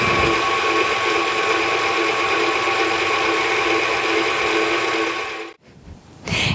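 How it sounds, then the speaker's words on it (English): A stand mixer fitted with a wire whisk attachment whips cream at medium speed, a loud steady mechanical whir and rattle that runs continuously and then abruptly stops near the end. "I'm just going to use my wire whisk attachment and put it on about medium speed."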